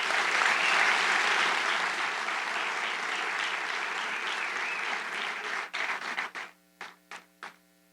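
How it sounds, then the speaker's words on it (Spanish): A church congregation breaks into sustained applause that holds dense and steady, then thins to a few scattered final claps before it stops. "Vamos a dar un aplauso al Señor."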